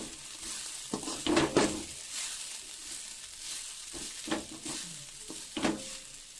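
A green papaya poriyal with grated coconut and cumin is stirred in a pan over a low sizzle. Spatula scrapes come in two clusters close to the listener, and nobody speaks.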